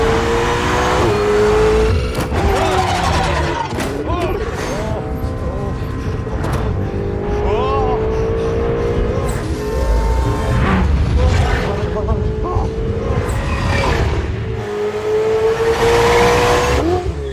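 A red Ferrari fresh off a dealership floor drives and revs hard, engine pitch climbing and falling through repeated surges with tire noise, loud and continuous for the whole stretch.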